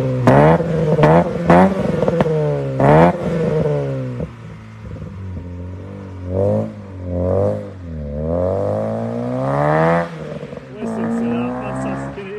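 A Vauxhall Nova SRi with a 2.0L Redtop engine revs hard in several sharp blips near the listener. The pitch climbs and falls with each one, then settles into a rougher, rising and falling drone.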